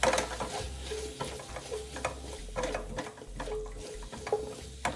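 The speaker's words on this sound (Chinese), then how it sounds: "稍微拌一拌，将煸香后的鲜虾加入" Shrimp stirred in a hot wok with Huadiao cooking wine, oyster sauce and a little sugar: a steady, close sizzle under repeated scraping strokes of the spatula, with no talk.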